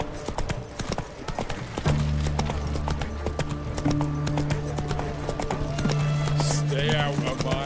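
Rapid hoofbeats from Roach, a horse in The Witcher 3, pound in a steady galloping rhythm up close, with a droning musical score underneath and a brief whinny near the end.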